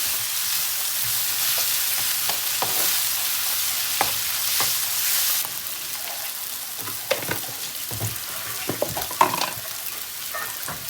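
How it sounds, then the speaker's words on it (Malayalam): Chicken masala with coriander powder stirred in a hot pan, a loud continuous sizzle with scattered scraping and tapping of the spoon, the frying hiss easing partway through while the stirring goes on, no voices. "നമുക്ക് ഒന്ന് ഇളക്കി കൊടുക്കാം നന്നായിട്ട്"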